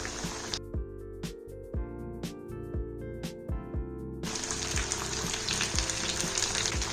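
Spice-coated Lahori fish pieces dropped into hot oil over a low-to-medium flame: bubbling sizzle with a run of light rhythmic taps, building into a steady loud frying hiss over a faint background tone.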